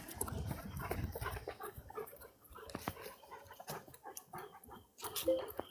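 A dog out on a walk whimpers and makes soft, restless noises close by, mixed with people talking over a phone line.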